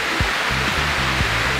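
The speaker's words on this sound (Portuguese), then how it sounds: "Fotografia aqui da Cachoeira da Escuridão." Cachoeira da Escuridão waterfall in Miguel Pereira roars as a steady, loud, close wash of falling water, with a few brief low thumps underneath.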